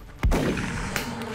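A single sharp shotgun blast from the video game XCOM Long War, followed by a short rumbling tail and a faint later thud.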